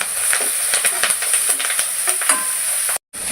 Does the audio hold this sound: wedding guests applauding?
no